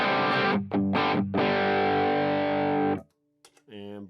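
Distorted electric guitar chords through a Diana overdrive pedal ring out close and loud, a couple of short stabs then a long sustained chord; a voice speaks briefly afterward.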